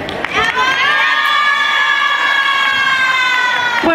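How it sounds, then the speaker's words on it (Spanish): A crowd of schoolchildren at a recitation contest shouts and cheers loudly in sustained, high-pitched voices, filling the whole moment. "Fuerte los aplausos para Eva Mamani"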